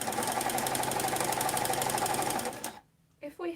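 A sewing machine stitches sleeves in a fast, steady mechanical rattle for about two and a half seconds, then stops abruptly, followed by brief quiet and a short voice.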